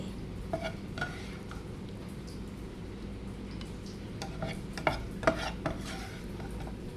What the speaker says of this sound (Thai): ผัดเห็ดฟางใส่ไข่